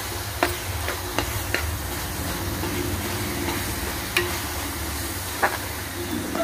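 Chili powder is stirred into onion paste frying in a pan, with a soft steady sizzle and occasional sharp scrapes and taps of a spoon against the pan.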